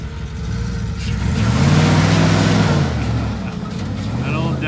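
Old Dodge car engine revving up as it goes for a donut, a loud, swelling mid-pitched roar that peaks then eases back, with people talking over it.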